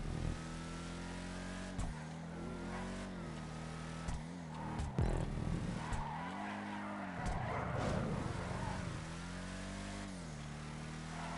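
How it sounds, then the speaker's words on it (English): Racing car in GTA Online, engine revving hard with throttle lifts and popping backfires, tires squealing and skidding through turns, loud and continuous throughout. "I'm sure you can see from all the backfire I have that I'm getting"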